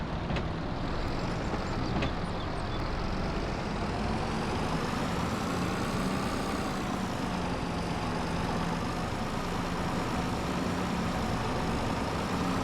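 A small tractor engine in Farming Simulator 22, a steady unbroken drone that rises slightly in pitch partway through and runs alone with no talk.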